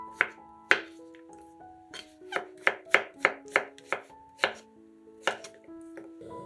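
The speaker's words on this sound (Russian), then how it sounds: "500 грамм шампиньонов разрезаем пополам и нарезаем пластинками." A knife chops through champignon mushrooms, slicing them on a board: about a dozen crisp, close knocks in an uneven rhythm, some in quick runs and others spaced apart, with no talk.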